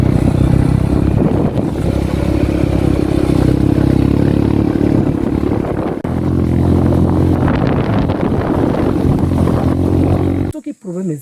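A motorcycle convoy roars past on a Kinshasa street, with loud, continuous engine drone and wind buffeting that drops off abruptly at the end.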